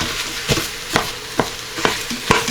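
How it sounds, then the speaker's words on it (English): Lean ground beef browning in an Instant Pot, broken up with a utensil: sharp scraping, stirring knocks recur about every half second over a steady low sizzle, close and fairly loud. "we're going to cook it until the meat is brown and cooked through"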